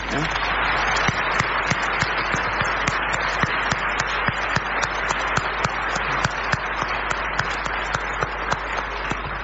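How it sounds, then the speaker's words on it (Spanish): A church congregation applauds children after their first communion, a dense, steady wash of many hands clapping with crisp individual claps standing out, sustained and fairly loud throughout, with no speech over it. "les pido un aplauso para ellos"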